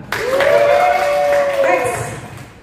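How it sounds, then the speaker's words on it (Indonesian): Audience applause at an anti-corruption outreach session, a brief burst of clapping heard under a sustained voice that continues across it. "Oke, tepuk tangan."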